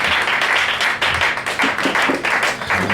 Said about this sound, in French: Joignons nos deux mains et donnons des bonnes acclamations au roi des rois.